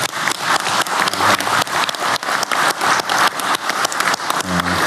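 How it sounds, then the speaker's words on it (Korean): Audience applause at a South Korean cabinet meeting, a steady burst of clapping from many hands throughout, fairly loud and close, with a brief voice rising near the end. "우리 대통령님과 국민을 위해 박수 한번 크게 보내주시기 바랍니다"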